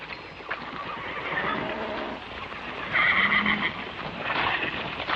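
A horse neighs loudly in the middle, with more whinnying afterward, over a dense background of hooves and ambient noise.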